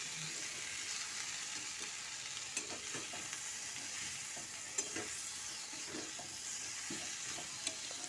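Winter vegetable curry with prawns sautéing and being stirred in a pan, a steady soft sizzle with scattered scraping stir strokes and occasional light knocks, no voices.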